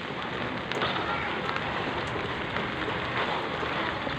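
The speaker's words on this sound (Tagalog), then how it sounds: "Pag lumakas lang gusto tong ulan na to, nagtuloy-tuloy ito hanggang mamaya, hanggang gabi" Heavy rain pours down steadily outdoors, a dense, continuous hiss that stays loud and unbroken throughout without pauses.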